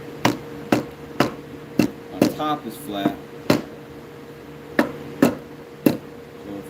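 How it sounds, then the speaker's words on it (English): A hammer striking pieces of a wooden mallet to set them flat during assembly, sounding as sharp, close knocks at a roughly steady pace with brief gaps, while someone talks briefly. "so if I hammer everything down"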